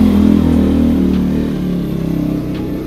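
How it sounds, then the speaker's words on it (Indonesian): A racing motorcycle passes close by with a loud, droning engine roar that peaks early and then slowly fades as it moves away. "Oke, motor racing lewat ya guys ya."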